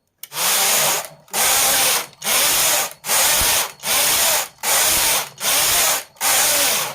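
A knitting machine carriage runs red yarn stitches for a baby frock, making loud rasping broadband sweeps in a steady rhythm of about eight passes, each cut off by a brief pause, with no talking.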